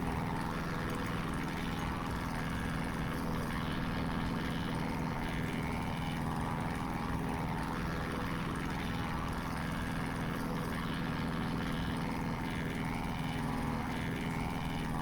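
Steady, loud propeller engine drone of a Christen Eagle II aerobatic biplane in the DCS flight simulator, flying over Normandy, a continuous sustained hum filling the whole stretch without speech.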